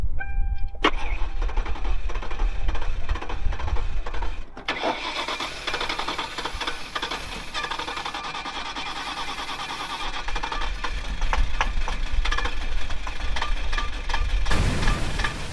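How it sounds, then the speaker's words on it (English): An engine cranks and catches, running loud and ragged with sharp bursts and popping through a long rough stretch, then a final surge. "It just backfired so bad"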